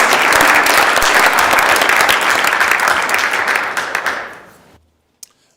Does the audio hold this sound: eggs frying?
no